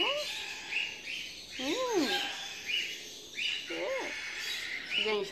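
A young parrot chick gives repeated rising-and-falling squawking calls, several separate bursts spaced a second or so apart, close and moderately loud over a quiet background.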